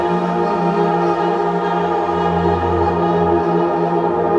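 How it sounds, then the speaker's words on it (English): A sustained, tonal instrument drenched in bright, dense plate reverb, its notes ringing and blending into a shimmering wash with no voices. "Bit of plate reverb."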